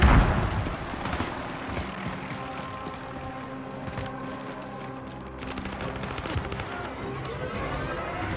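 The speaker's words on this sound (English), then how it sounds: "Throwing stun!" A stun grenade goes off during a team deathmatch in Call of Duty: Modern Warfare, with a sharp opening burst followed by a busy stretch of crackling impacts and gunfire-like bangs in the game's combat.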